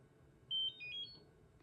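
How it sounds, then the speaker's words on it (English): A short, high electronic beep from a handheld at-home laser device sounds twice in quick succession, marking a completed session, clear against a quiet background. "That means that you have done a full session when you hear that beep."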